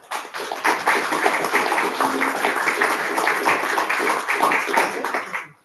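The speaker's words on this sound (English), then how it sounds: "let's give a round of applause for Eva" An audience at a Valentine's evening poetry reading breaks into a round of applause for a poet, dense clapping that runs steadily for several seconds before tapering off.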